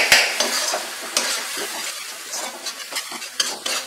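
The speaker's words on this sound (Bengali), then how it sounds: "দিয়ে মশলাটাকে আমি কষিয়ে নিচ্ছি" Spice paste with salt and a splash of water frying in a pan for chicken khichuri, close sizzling under repeated scraping stirs and light metal clinks of a spoon against the pan; no voices.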